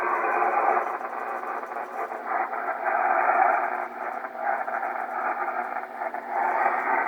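A radio gives off dense, steady hiss and crackling band-limited noise, loud and continuous with slight fluctuations and no clear programme audible.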